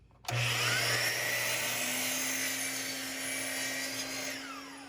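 A power tool cutting wooden gable pieces for a Boy Scout bird feeder, a loud continuous whine that starts abruptly and holds steady for several seconds before easing slightly, with no talking.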